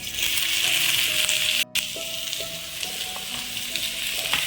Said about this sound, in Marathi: आता सगळ्यात आधी मी कांदा टाकते